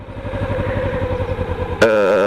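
A Kawasaki Ninja 300 motorcycle engine runs at a steady low throb while the clutch is eased to the grab point, then jumps abruptly to a higher, stronger note near the end. The sound is close and alone.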